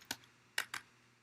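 Three crisp keystrokes on a computer keyboard typing into Minecraft chat, a lone tap followed by a quick pair, close and quiet, with a faint click at the end.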